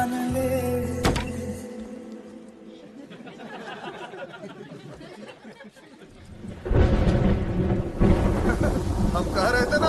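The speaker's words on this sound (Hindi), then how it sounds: "हम कह रहे थे ना बारिश होगा" Thunderstorm with rain: a sharp thunder crack early, then a rolling rumble and steady rain that builds louder after the midpoint, with music and voices heard alongside.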